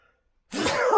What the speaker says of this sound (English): I'm going to sneeze because I'm allergic to cats.